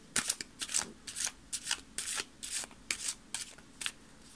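Tarot cards being shuffled in short, quiet riffling bursts, about a dozen brisk papery flurries in an uneven rhythm, close and soft with no talk.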